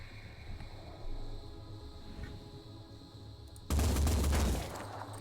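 Gunfire in the strategy video game Phoenix Point, soldiers taking shots at a distance, heard as a low rumbling bed followed by a loud burst of rapid shots near the end, no talk.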